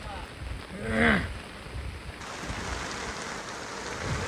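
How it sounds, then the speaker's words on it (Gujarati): Rain falling outdoors makes a soft, steady hiss throughout, with a brief rising and falling vocal-like tone near the start. "વરસાદ આવી ગયો"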